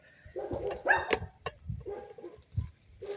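A dog barks in short bursts nearby, with faint chirping and other small sounds in the background.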